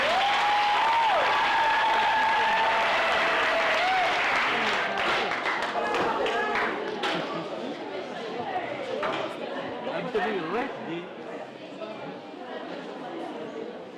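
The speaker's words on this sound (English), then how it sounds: "Let's give them another round of applause," Crowd applause for young heritage performers at a national parks week launch in a national park, loud at first and then easing off, with voices and chatter mixed in.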